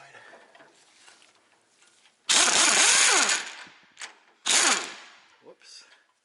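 An 18mm wrench works the left rear strut of a 2004 Ford Explorer 4x4 truck: two loud, close whirring mechanical bursts, the first about a second long, the second shorter, with quieter clinks around them.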